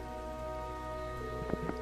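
Rain falls in a scene from the video game Trails of Cold Steel III, a steady even hiss under a constant tonal music bed, with a couple of brief soft taps near the end.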